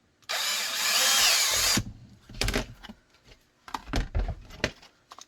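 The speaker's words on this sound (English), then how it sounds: "And drill that last hole." A power drill whines loudly for about a second and a half while boring the last hole in a knife and holster project, followed by clunks and knocks as the tool and workpiece are handled.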